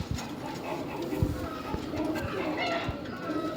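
Soft coos of black-winged pigeons murmur close by against a steady background hum, with a few light knocks and shuffles in between.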